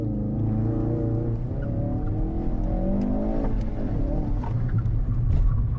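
A 2016 Ford Focus RS driven hard on a track on Pilot Super Sport tyres, its engine droning and rumbling steadily at high revs with shifting pitch, loud and continuous with faint ticks.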